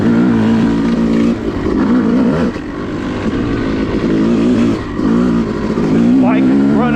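Yamaha YZ250 two-stroke dirt bike ridden on a woods trail at an OHV area in cool weather, its engine droning loud and steady with rising and falling revs throughout, while someone talks over it.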